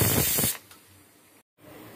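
A pressure cooker on a gas stove, cooking mutton, lets out a loud hissing whistle that cuts off after about half a second, leaving a faint background hum with a brief gap of silence.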